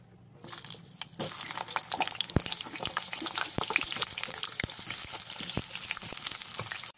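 Pointed gourd (potol) drops into hot oil, and a sudden sizzle starts, then continues as a busy, close frying hiss with scattered sharp crackles and pops.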